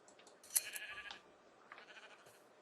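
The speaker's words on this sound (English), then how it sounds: "I found the sheep." A Minecraft sheep gives a few soft, faint bleats in a snowy biome within a video game, heard alone without any talk.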